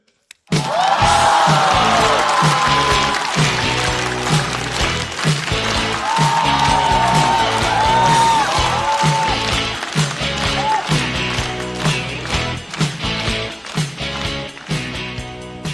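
A studio audience at a stand-up comedy show claps steadily to welcome a newcomer comedian to the stage, dense applause running throughout under loud backing music.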